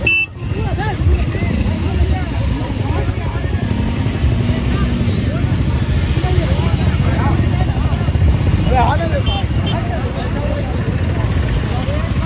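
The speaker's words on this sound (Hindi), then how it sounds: "MIM बाइक रैली कर रही है" Motorcycles at an AIMIM political bike rally in Belaganj, a dense continuous engine drone with revs rising and falling, horn toots and a noisy crowd mixed in throughout.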